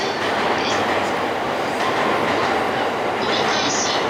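A JR East 185 series train pulls into a station platform in Japan, a loud, close rumble with clattering wheels and a faint squeal that runs for several seconds.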